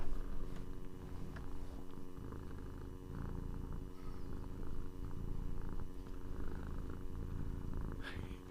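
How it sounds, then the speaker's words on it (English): Soft, steady purring from a cat, close and continuous with a low rhythmic rumble, and no talk over it. "do you want to just give everyone a bit of a purr?"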